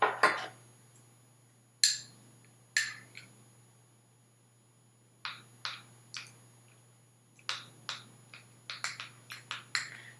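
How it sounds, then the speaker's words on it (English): A spoon stirs a homemade lip jam mixture in a small container, making sparse, sharp clinks and taps at irregular intervals, close and fairly quiet, with no talking. "I'm just going to stir this up and then add more tablets later on as I go"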